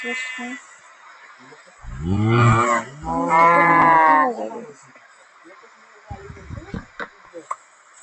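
A Minecraft cow gives two long, loud, close moos. Quieter game clicks and a few light taps follow.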